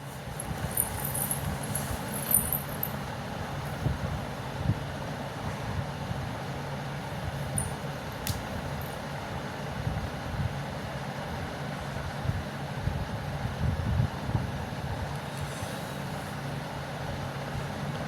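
A sewing machine stitches trousers with a steady low mechanical whir and rumble that runs close and continuous throughout, with no talk.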